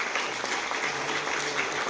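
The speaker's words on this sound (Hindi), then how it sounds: "आदरणीय डॉक्टर रमेश पाटिल सर के सम्मान में एक बार जोरदार ताली हो जाए" Loud applause from an audience honouring Dr Ramesh Patil at a business plan meeting, a steady wash of clapping that fills the whole two seconds without pause.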